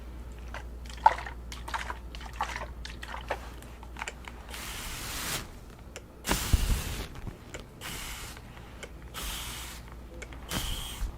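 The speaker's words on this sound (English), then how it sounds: "I'm going to apply some mist water. Distilled water with rose water" Mist of distilled water mixed with rose water is sprayed onto a face in about five short, close hissing bursts, with quiet handling clicks between them.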